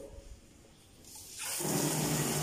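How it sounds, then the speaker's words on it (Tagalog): A kitchen sink faucet turns on partway through, and water starts running in a steady, close hiss after a quieter stretch of room noise. "Yan ang gripo."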